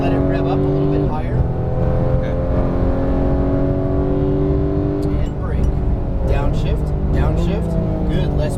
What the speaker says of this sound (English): Start to let it rev up a little bit higher.